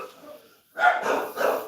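Several dogs bark indoors nearby in loud, repeated bursts after a brief pause, with a faint voice at the start.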